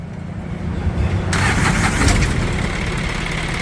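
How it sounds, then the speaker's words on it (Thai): An Isuzu NKR six-wheel truck with a 109-horsepower diesel engine cranks and fires up, then settles into a loud, steady, close idle rumble with no talking. "สตาร์ทติดง่ายครับ"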